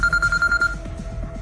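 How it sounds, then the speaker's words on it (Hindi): A phone rings with an incoming call, a series of quick, evenly spaced electronic ring pulses, near and fairly loud, fading into a softer rhythmic background after the first half. "तभी शिवाय के फोन पर किसी का कॉल आया"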